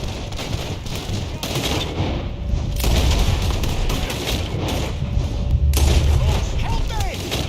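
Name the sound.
gunshots in video game Red Dead Redemption 2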